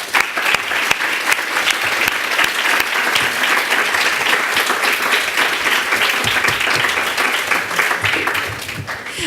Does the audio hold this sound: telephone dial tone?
no